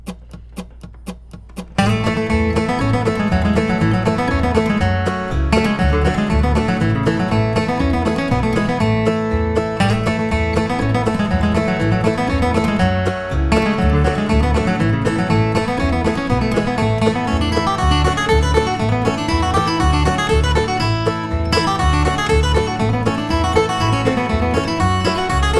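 A bright flatpicked melody of the fiddle tune Cherokee Shuffle runs quickly over a steady backing track of bass and rhythm, starting after a short quiet lead-in and playing continuously.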